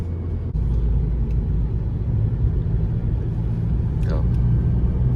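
A Peugeot 308 climbing a steep hill at high revs, its engine giving a constant loud droning rumble inside the car, with a brief faint squeal near the end.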